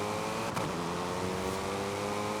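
A front-wheel drive race car engine in Forza Horizon 5 revs with a steady, loud, buzzing drone that holds a constant pitch throughout.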